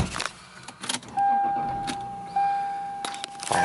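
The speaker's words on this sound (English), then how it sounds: "Fires right up, runs great." Toyota Supra engine in a Lexus GS300 sedan cranks with a few clicks and rattles, then catches into a close, steady idle hum, with another brief clunk and rise later on.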